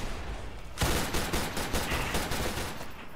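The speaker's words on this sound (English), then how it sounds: "Luger pistol. Isn't this like that same like pistol that they used in like World War II?" Rapid Luger pistol gunfire in the Roblox game Arsenal, a dense burst of loud game shots starting abruptly after a short pause and continuing in quick succession.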